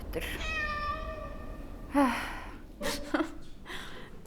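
A cat in a video game lets out one drawn-out meow over a constant background hum. Breathy human gasps and short vocal sounds follow.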